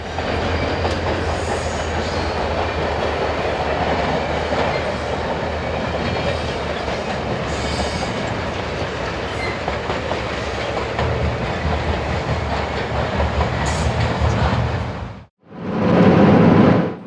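The Rocky Mountaineer passenger train rumbles steadily past through Banff with rhythmic clattering of wheels on rails, loud and close, then cuts off briefly before the rumble resumes.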